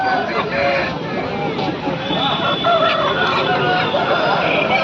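Roosters and hens at the Aseel chicken market in Kundarapalli, Krishnagiri, crowing and clucking continuously amid a dense crowd babble of market chatter.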